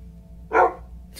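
A single short bark from a Minecraft wolf in the video game, sharp and close, rising briefly out of a quiet background.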